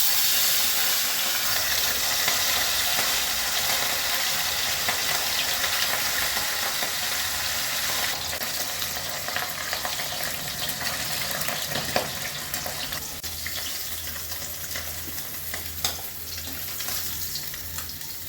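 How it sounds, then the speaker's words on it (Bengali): Pieces of rohu fish frying in hot oil for a pumpkin fish curry, a continuous loud sizzle and hiss with faint crackles, steady and close throughout. "প্রথমেই আমি মাছগুলো ভেজে নিচ্ছি।"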